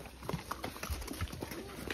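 Trained horses' hooves clop unevenly on hard ground at a walking pace in Tayrona park, faint and a little distant, with background noise and no clear talk.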